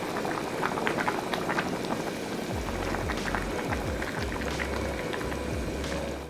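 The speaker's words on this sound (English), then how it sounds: "Bring soup to hard boil." Korean silken tofu soup at a hard rolling boil, a steady dense bubbling and popping that runs throughout with low gurgling surges, close and fairly loud, with no talk.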